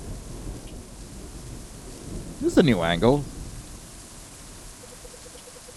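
Steady rain patters on a small awning attached to a convenience store, a constant hiss with a low rumble of thunder underneath, while a person speaks briefly.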